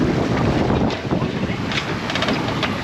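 Strong wind of about 15 knots buffets the microphone aboard a sailing boat near Marbella, a constant loud rushing roar with water sounds beneath it.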